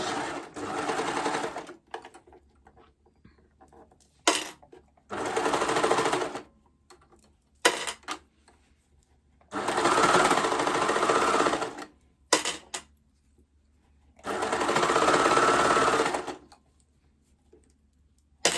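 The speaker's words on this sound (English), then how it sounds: "I'm just going to start in again and overlock around the edge." An overlocker serges the edge of knit fabric for a raglan top, running in several separate bursts of rapid, even stitching with quiet pauses between them.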